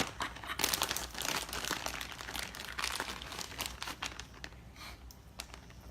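Plastic bag crinkling and rustling close up as gloved hands pull a pork tenderloin out, a run of sharp irregular crackles, fairly quiet, with no talk.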